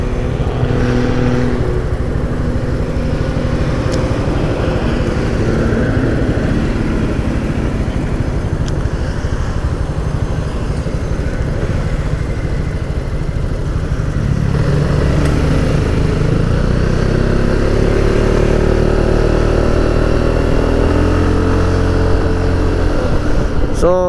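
A BMW scooter engine runs loud and close throughout, with a steady low rumble that rises in a rev toward the end.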